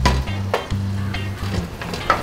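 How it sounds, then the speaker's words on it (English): Food sautéing in a pan on medium heat for a Jamaican jerk chicken dish with garlic shrimp and lobster, giving a steady close sizzle broken by several brief scraping stirs, with no talking. "I'll just saute them until they're ready to go"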